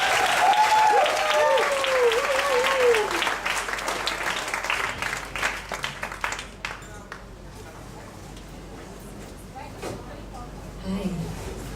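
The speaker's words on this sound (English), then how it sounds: "So give applause everyone for Akiko." Audience applause fills an evening PechaKucha presentation night at a Bali festival in Ubud, loud and dense at first, then thinning to scattered claps; a voice speaks over the start.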